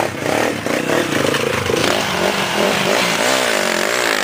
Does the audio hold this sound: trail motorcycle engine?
yes